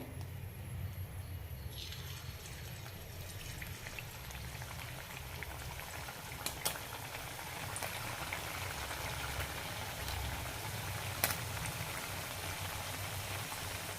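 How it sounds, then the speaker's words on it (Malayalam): Ribbon pakoda dough frying in hot oil: a steady, close bubbling sizzle runs throughout, with a few sharp crackles and pops rising above it. "എണ്ണ നന്നായി ചൂടായിട്ടുണ്ട് ഇതിലേക്ക് ഡയറക്റ്റായി തന്നെ പിഴിയാം"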